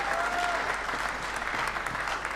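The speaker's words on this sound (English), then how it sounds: "Another round of applause for our Hastings Mayor." Audience applause at a Pasifika celebration event, a soft, distant, steady wash of clapping throughout with no voices standing out.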